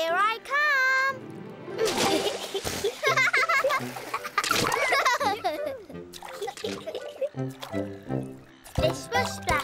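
A cartoon character leaps into a brand new pool with a bright splash, backed by music, and children's voices talk before and after.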